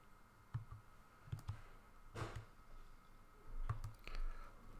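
Fingers tap keys on a calculator keypad, giving faint, scattered soft clicks in a few irregular bursts against a quiet room background.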